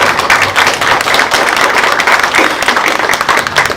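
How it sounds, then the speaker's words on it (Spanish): Loud, dense applause from an audience honouring exhibitors and curators at a cultural gathering in Guayaquil, steady clapping filling the room from start to finish with no voices over it. "un fuerte aplauso para nuestros expositores y curadores"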